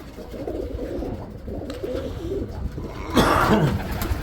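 Soft, low coos of racing pigeons in a loft murmur throughout against a steady background, with a louder burst of cooing calls near the end.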